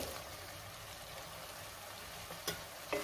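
Green chillies and peas sauté in a pan, a faint, steady low sizzle with a couple of soft stirring knocks near the end, no voices.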